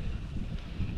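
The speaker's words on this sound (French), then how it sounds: "le vent reste mesuré, c'est bien" Steady wind rushes across the microphone while riding a fixed-gear bicycle on a long road trip, a constant low buffeting roar, fairly quiet and unbroken, with no talk.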